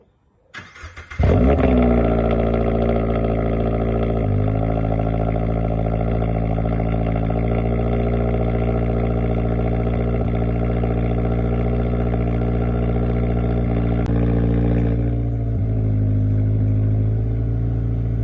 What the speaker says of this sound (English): we're gonna get this thing down and we're gonna give it a cold start